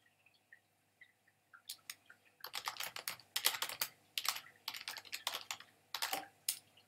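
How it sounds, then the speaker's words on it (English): Rapid clattering keystrokes on a computer keyboard, close and fairly loud, in uneven bursts with short pauses after a few sparse taps at the start. "I'll quickly type, because I think he might have turned."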